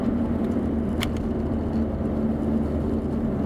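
A 2022 Hyundai Elantra N with a DCT gearbox rumbles while driving on a back road, a steady low engine drone with road noise and no talk.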